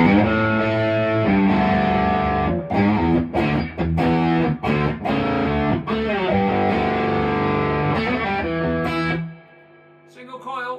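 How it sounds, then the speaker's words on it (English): Overdriven electric guitar, a PAF replica T-type on its full humbucker setting, plays a thick, fat riff of chords and notes with gritty distortion, ending abruptly into a quiet tail. "bit of overdrive with this on its full humbucker setting."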